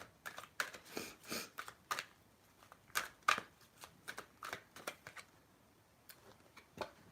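Tarot cards being shuffled by hand, soft riffling and slapping bursts in an irregular run, close and quiet, with no talking.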